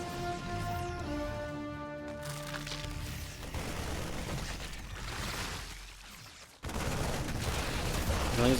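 Siege tanks fire during a Terran versus Zerg StarCraft 2 battle: loud, dense booming shots and explosive bursts roll on almost without pause, with a brief lull before another heavy volley.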